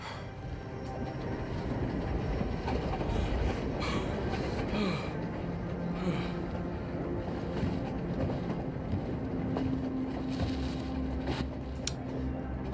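A subway train passes in the Spider-Man video game set in New York, a steady, muffled rumble with a windy rush that holds for the whole stretch with no voices over it.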